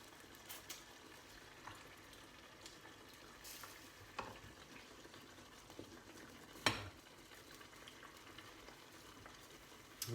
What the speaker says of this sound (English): Okay, so there's the tomato sauce bubbling away